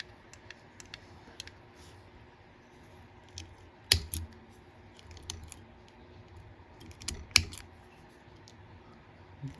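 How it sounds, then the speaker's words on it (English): Scissors snip fly-tying material during tying of a soft hackle crab fly, a few sharp, close clicks and cuts scattered over quiet room tone, two of them louder, with no talking. "Don't use your good scissors to do this."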